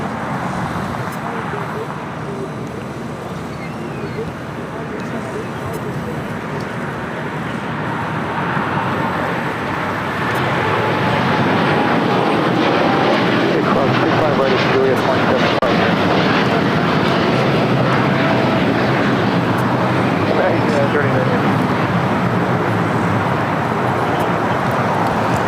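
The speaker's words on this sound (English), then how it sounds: "This is United Flight 39 taking off to Tokyo Haneda on the 787-10 Dreamliner" A United Boeing 787-10 Dreamliner taking off from LAX runway 25 right, engine roar building from a moderate hum to a loud, dense, rushing thunder that holds steady for the second half.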